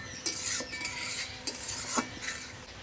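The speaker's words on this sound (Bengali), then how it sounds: "মশলাটাকে আর একটু কষিয়ে নেব" A spoon scrapes and stirs spice paste of chopped tomato, turmeric, chili powder and garam masala in a pan, giving several clear metallic clinks and scrapes over a faint frying sizzle, with no voices.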